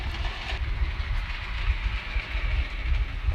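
A small model train runs around a curved trestle on a reversing loop, giving a steady low rumble with faint rhythmic clicking from the wheels, fairly close and without any talk.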